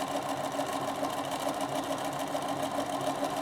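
A Bernina sewing machine stitching a triple straight stitch: a continuous close, even motor whir with a rapid rhythmic needle chatter, running steadily with no voices.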